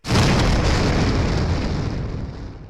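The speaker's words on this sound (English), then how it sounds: "was that explosion very sloppily edited" A loud explosion effect edited into a video bursts in abruptly with a heavy, rumbling roar and then slowly fades away.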